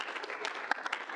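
A student senate audience claps steadily for a group photo, a moderate, even patter of many hands with one sharper clap standing out partway through.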